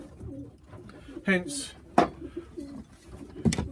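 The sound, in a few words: birds, likely pigeons, at a feeder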